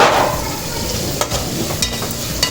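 Onion, garlic and green chili fry in a pan with a loud, dense sizzle, close up, with a few spatula clicks toward the end.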